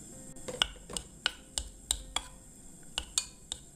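Garlic and meat are stir-fried in an earthenware pot with a spoonful of sesame or perilla oil; a utensil taps and scrapes the pot about a dozen times in an even rhythm over a quiet background.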